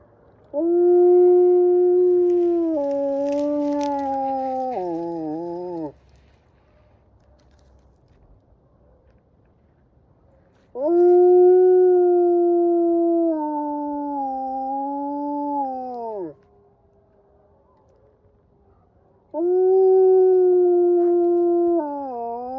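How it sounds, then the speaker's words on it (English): Wolves howling from about a mile away, three long drawn-out howls with rising and falling pitch, each several seconds long and separated by quiet pauses, carrying clearly across open country. "So that's a wolf long distance call."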